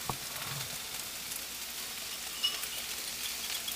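Food sizzles and fries in a hot pan at a steady, moderate level, a brief clatter near the start and a small pop midway.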